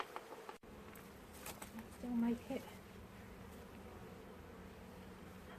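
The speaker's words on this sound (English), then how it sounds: "There are a lot of wasps around." Wasps buzz around a beehive, a faint, intermittent insect drone with one brief louder buzz passing close, under quiet outdoor background and a few spoken words.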